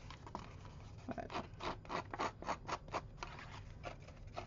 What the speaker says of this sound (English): nothing like a good pair of scissors.